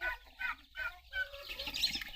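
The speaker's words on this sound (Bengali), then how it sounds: "এই যে মুরগি বেরিয়ে গেছে। এগুলো কি জাত? দেশি মুরগির সব।" Native desi chickens on a small Bangladeshi poultry farm give short repeated clucks and calls at close range, with some rustling and fluttering in between and no talk.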